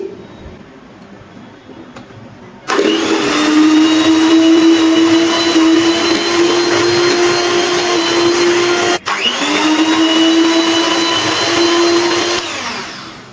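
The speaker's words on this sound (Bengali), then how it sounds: "এবার ইলেকট্রিক বিটার দিয়ে আবারও সব কিছু আমি একটু বিট করে নিচ্ছি।" Electric beater whipping a cream pineapple ice cream mixture, a loud steady motor whine that starts abruptly after a quiet moment, cuts out briefly, then resumes and runs on alone.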